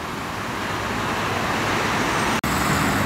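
A Ford Del Rey car passes in steady, loud roadway traffic at a city square, with a continuous engine and tire rumble and a brief dropout near the end.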